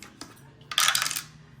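A four-sided D4 die clatters onto a hard surface during a tabletop challenge game: a brief tap, then a bright rattling tumble that settles within about half a second.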